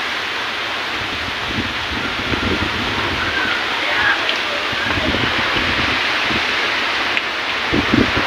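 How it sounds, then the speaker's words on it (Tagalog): Steady rain falls around a hut, a continuous broadband hiss with some wind and rustling mixed in, and scattered bursts of low thumps and handling noise near the microphone. "Ulan is raining."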